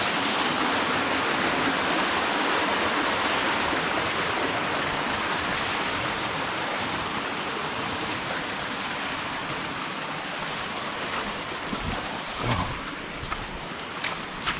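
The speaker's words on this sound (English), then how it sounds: "all this green, and of course all these waterfalls everywhere" Waterfalls and streams rush steadily in green Portuguese countryside, a dense, continuous roar of falling water close by with no voices, holding loud and even throughout.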